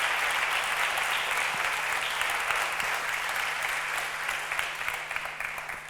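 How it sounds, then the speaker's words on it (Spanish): Steady audience applause fills the hall at a literary event featuring author Antonio Muñoz Molina, a dense wash of clapping hands that holds evenly for several seconds with no voices over it. "un fuerte aplauso para todos los que nos están siguiendo"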